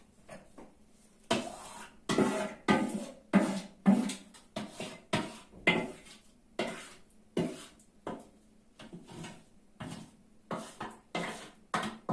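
A spoon scrapes homemade tomato paste from metal trays in a series of close, rhythmic scraping and clinking strokes with short pauses between them.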